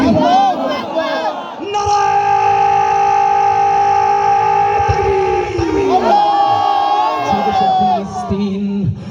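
A large crowd at a pro-Palestine gathering chants Allahu Akbar in unison in reply to a call, many voices holding loud, sustained tones together, with shouts rising and breaking between the drawn-out phrases.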